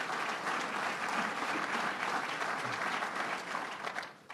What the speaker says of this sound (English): Let's give him another round of applause, Senator Tom Libous.